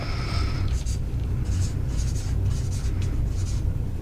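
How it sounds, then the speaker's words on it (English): A pen scratches across paper while a word is written, in short scratchy strokes over a loud low rumble of background noise. "you got to write it down on your piece of paper"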